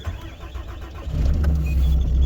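A truck brought back from Alaska starts up: a brief cranking gives way after about a second to a steady, loud low engine rumble that continues idling to the end, close by.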